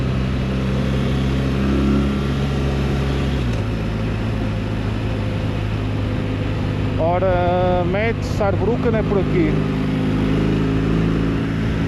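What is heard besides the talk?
BMW R1300 RT motorcycle engine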